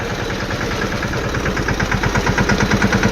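A tractor engine runs with a steady rhythmic chugging throb, close and fairly loud, without a break.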